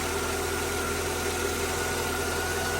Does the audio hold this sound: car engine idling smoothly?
yes